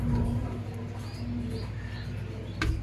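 Imported exhibition homer pigeons from Europe coo softly in a steady low murmur, with a few faint chirps and a brief rustle near the end, no one speaking.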